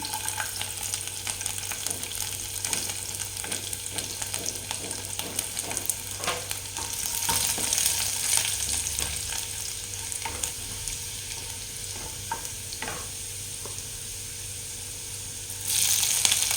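Chopped garlic and green chillies fry in hot oil with a steady sizzle, broken by occasional stirring scrapes and a brief louder hiss near the end.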